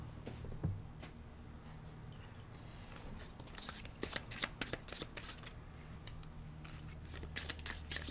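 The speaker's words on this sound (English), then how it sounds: "Well, we have a card that fell out." Tarot cards being shuffled by hand, giving soft riffling and flicking bursts that grow busier and more rapid partway through, close and fairly quiet, with no talking.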